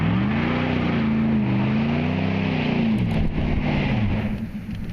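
Nissan Titan Pro4X pickup doing a burnout in two-wheel drive with its rear differential locked: a loud, steady engine roar with wavering revs, close by, easing off at the end with no talking.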